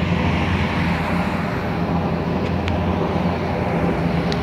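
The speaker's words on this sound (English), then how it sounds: "We got 6 helicopters." Six U.S. Army helicopters passing over Whitesboro, New York, a loud, continuous low droning roar that holds steady throughout with no talking.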